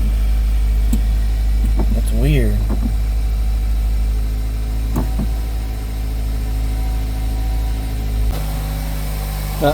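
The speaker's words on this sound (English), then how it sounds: "it's idling rough" A 2002 Toyota Corolla engine idles roughly with a low, steady droning hum and a faint uneven pulse, while someone speaks briefly partway through.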